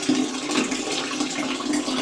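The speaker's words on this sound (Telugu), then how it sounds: "సో మనం వాటర్ ఫిల్ అవుతున్నాయి కదా" Hot water from a geyser tap pours steadily into a tub in a bathroom, a continuous close rushing splash with no voices.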